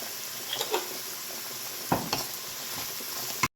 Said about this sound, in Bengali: শুধু জিরেগুলোই দিয়ে গোটা জিরে আর এবার একটু নুন দিয়ে ঢাকা দিয়ে করে ভাজতে হবে